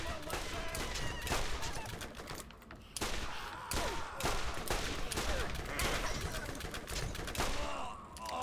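Dense, continuous gunfire from an ammo-regenerating gun in Borderlands rattles in rapid bursts with brief pauses, loud and close, filling nearly the whole stretch.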